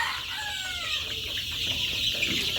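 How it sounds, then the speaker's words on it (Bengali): Chickens cluck in a poultry shed, a dense continuous chorus of nearby and distant clucks and peeps over a steady background hum, with no talk. "তো দেখতে পারতেছেন মুরগিগুলো ইনশাল্লাহ অনেক চঞ্চল"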